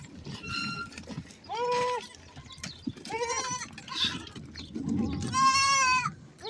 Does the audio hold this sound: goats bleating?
yes